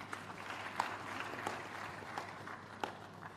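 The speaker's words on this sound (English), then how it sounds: "Applause for him." Moderate applause at a university convocation ceremony for a donor's representative, a diffuse patter of many hands with a few sharper claps standing out, steady throughout and fairly distant.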